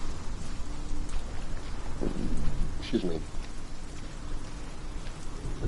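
Steady rain falls in the video game Hellblade: Senua's Sacrifice, an even hiss that runs throughout, with a brief spoken phrase and a couple of short thuds midway.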